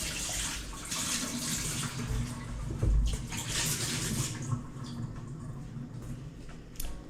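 Running tap water rinses a sauce dispenser in a home kitchen, a steady close hiss and splash with occasional clatter throughout, and no one speaking.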